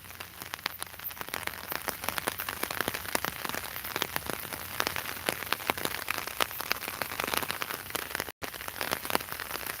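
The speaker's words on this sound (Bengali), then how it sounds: "এই যে দেখেন যত সময় যাচ্ছে বৃষ্টিটা বাড়ছে।" Rain falls steadily in Sylhet during the dry winter season, a dense patter of drops hitting nearby surfaces throughout, close and fairly loud, with one very brief dropout near the end.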